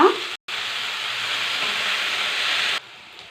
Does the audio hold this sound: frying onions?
yes